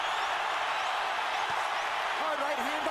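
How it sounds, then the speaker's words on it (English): A boxing arena crowd roars loudly and steadily throughout a Canelo Alvarez versus Gennady Golovkin fight, a dense wall of cheering with faint voices rising through it. "Crowd is going berserk"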